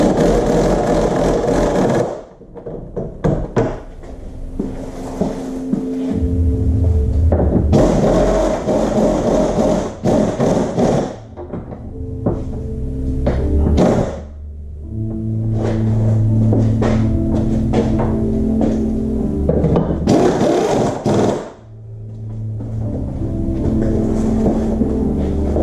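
A power tool tightening rear cradle bolts on a MazdaSpeed 6 during a rear end install, with loud whirring and buzzing bursts repeated over and over, some short stops between runs.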